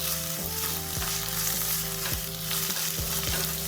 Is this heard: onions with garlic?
yes